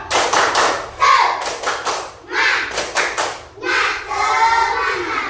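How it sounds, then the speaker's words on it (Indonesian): A class of schoolchildren performs a rhythmic spirit clap, with bursts of synchronized hand claps and thumps in short patterned groups, separated by brief pauses and interspersed with children's voices. "Tepuk semangat."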